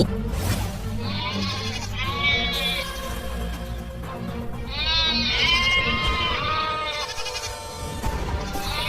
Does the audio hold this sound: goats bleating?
yes